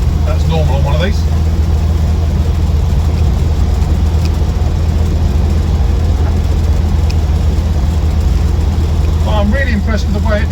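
A 1968 Morris Traveller's engine idling steadily, a low, even mechanical hum with a constant drone throughout, and faint birdsong briefly breaking through at the start and end.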